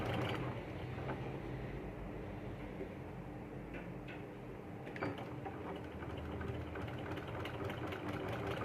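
A domestic sewing machine stitching a baby yoke frock runs in a steady, faint mechanical whir with light rhythmic ticking, continuous and close, with no voices.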